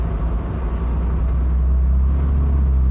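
Deep, steady low rumble from a BMW E46 idling, resonating through the stripped-out cabin, a constant droning hum close and alone with no talk.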